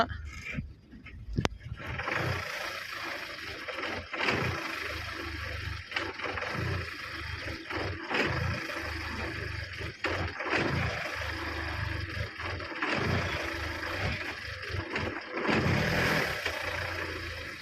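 A car engine runs steadily at a low, even idle in drive gear, shifted from neutral, close by, with a few soft clicks and knocks over the hum.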